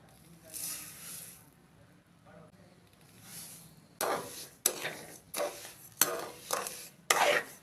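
A spoon scrapes and stirs sugar with a little water in a pan for amla (gooseberry) murabba in a series of short, regular strokes, preceded by quieter rustling and faint background noise.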